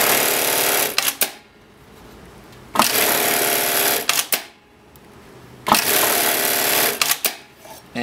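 An Atlas AT 1852 direct drive heavy-duty bartack sewing machine stitches in three fast automatic cycles, each a dense mechanical buzz of about a second and a half, ending in clicks and separated by short pauses.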